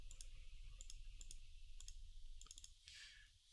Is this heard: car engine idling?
no